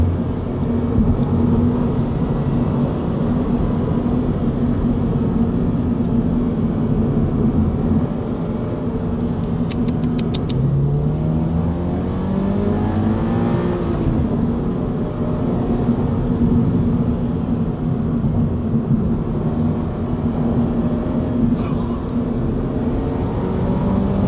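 A Toyota GR86 engine pulls hard on a winding canyon road, with a sustained rumble and a rising tone as it accelerates. A few brief higher squeals cut through the steady drive, and nobody speaks.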